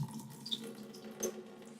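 Rice being washed in water for its second rinse, with gentle splashing and swirling water sounds in a sink or pot, close and quiet with small drips and a brief slosh.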